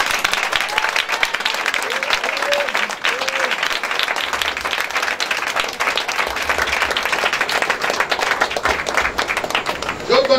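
A prayer and deliverance service congregation claps and cheers for Jesus Christ. Dense, steady applause runs throughout, with voices shouting inside it, and a few brief sung or called tones rise above the clapping.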